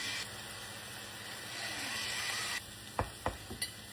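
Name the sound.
ground beef sizzling and being stirred in a pan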